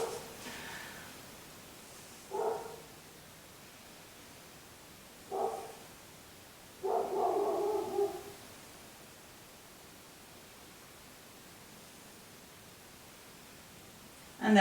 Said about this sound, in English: Noticing the dog barking and using that as part of your practice.